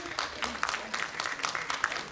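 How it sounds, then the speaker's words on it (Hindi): A crowd claps, scattered applause of moderate loudness, with some voices mixed in. "तो एक बार जोरदार तालियां होनी चाहिए इस बुक लॉन्च के लिए"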